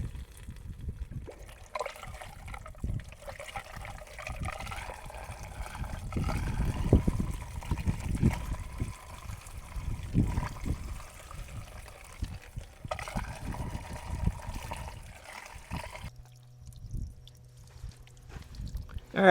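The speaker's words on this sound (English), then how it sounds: "you want to run this water for about 20 minutes in here and rinse the whole thing off" Water running and trickling as it recirculates through an off-grid solar well and water system during a rinse, a steady wet flow with splashing surges, fairly close, with no talk over it.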